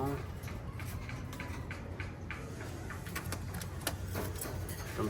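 Pigeons in a breeder loft keeping up a low, continuous murmur of cooing with scattered clicks and shuffles, close and steady throughout.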